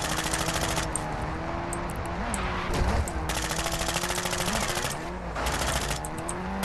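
Machine gun fire in a video game, loud continuous rapid bursts with brief pauses, layered over a steady vehicle engine drone throughout.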